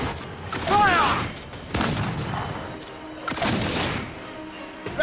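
Ship cannons boom in a volley during a naval battle in Assassin's Creed 4: Black Flag, with several heavy blasts and rumbling thuds spread across the span while crew voices shout over them.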